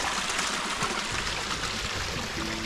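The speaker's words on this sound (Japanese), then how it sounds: "川流れてますね" A stream flows through an abandoned mountain village site where the old wetland has become rice paddies. Its steady, broadband rushing and trickling water sounds close and continuous, with no voices.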